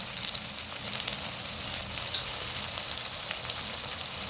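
Spice paste of turmeric, Kashmiri chilli powder, sugar and tomato sauce frying in a pan for a red chicken curry, a steady soft sizzle with faint crackles and no talk.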